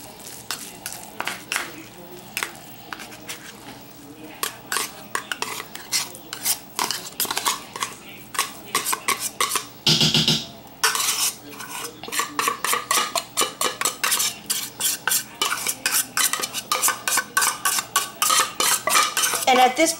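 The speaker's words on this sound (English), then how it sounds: "just take a spoon or a fork, try to break it up a little bit over the casserole, over your noodles" A spoon breaking up canned tuna and stirring it into casserole noodles, with close, rapid scraping and clinking against the dish in steady repeated strokes, pausing briefly midway before resuming.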